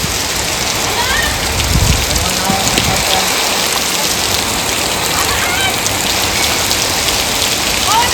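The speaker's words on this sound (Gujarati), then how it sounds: "મસ્ત વરસાદ આવી ગયો મિત્રો ધોધમાર" Heavy monsoon rain pours down on a village near Botad, a dense, continuous roar of water drumming on surfaces, loud and close, with scattered splashes and no break in the downpour.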